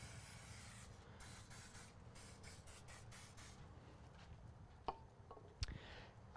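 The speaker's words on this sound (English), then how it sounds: "I'm going to hit it with some canola spray." A soft, steady hiss of a canola oil spray can spraying a turkey on a vertical offset smoker in short bursts, with a couple of light clicks near the end.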